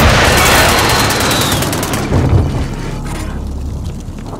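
Dense, loud gunfire and booming blasts from a Call of Duty: Modern Warfare match, a continuous barrage that thins slightly toward the end.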